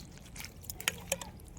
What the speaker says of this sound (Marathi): हे पहा या सर्व मासोळी मी टाकून घेतली आणि आणखीन 2 पाण्याने धुवून घेऊ